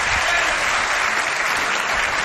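Audience applause at a live Spanish stage event welcoming a guest, steady dense clapping filling the whole stretch at even loudness, no voices over it.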